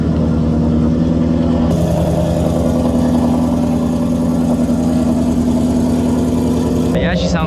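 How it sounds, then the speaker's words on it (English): A Ford Mustang SVT Cobra with long tube headers and aftermarket exhaust pipes idles steadily close by, a loud, continuous low rumble that holds throughout, with a brief change in tone near the end. "she sounds good with the pipes, long tube headers"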